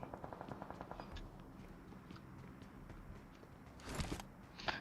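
Rapid gunfire bursts from a PUBG Mobile match, a quick rhythmic string of shots at the start, then scattered rounds and a sharper, louder volley near the end, all over steady game background noise.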